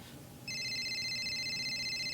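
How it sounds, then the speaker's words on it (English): A telephone starts ringing after a short quiet moment, a steady electronic trill with bright buzzing tones that carries on loudly and evenly to the end. "Hey, Gorg, phone for you."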